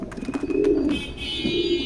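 A pair of bred loft pigeons, a hen from a Satkhira club line, coos close by in a low throaty rolling call, short and fairly loud with a faint high tone behind it.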